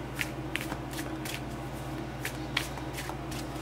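Tarot cards riffle and snap in a quick run of shuffles, several sharp bursts in close succession, near and clear with no talking.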